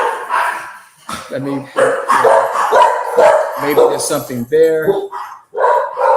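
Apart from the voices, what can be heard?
dogs barking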